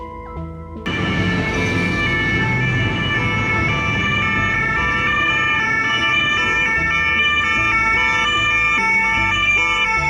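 An ambulance siren wails loudly and steadily on a road, its repeating tones rising and falling close by for the whole stretch after a brief quieter start, with traffic noise underneath and no voices.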